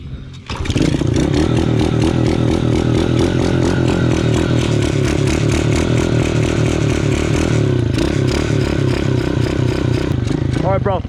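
A dirt bike engine starts at a motocross track and runs close and loud, a steady buzzing idle with revving that holds for around ten seconds, while voices are faintly heard underneath.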